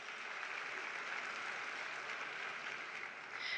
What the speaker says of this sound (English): That deserves a round of applause as well.